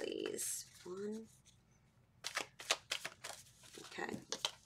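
Tarot cards shuffled by hand in a few quick riffling bursts during a Pisces reading, with a voice speaking briefly at the start.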